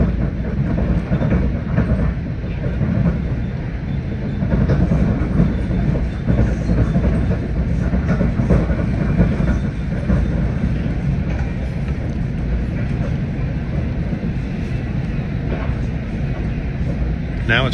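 Onboard an NJ Transit passenger train running from Port Jervis to Secaucus, a loud continuous low rumble of wheels on rails with rhythmic clatter and rattling, steady throughout.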